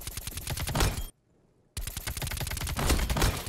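Rapid shotgun blasts ring out in the video game Black Ops Cold War, a dense burst of loud close shots, a short silent gap, then another sustained volley.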